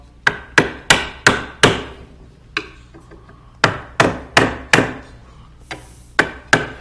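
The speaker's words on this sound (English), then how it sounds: "And then go in with the chisel upside down" Hammer striking a chisel cutting into a wooden stool, two rapid series of four to five sharp, close blows with a single tap between them and a final pair at the end.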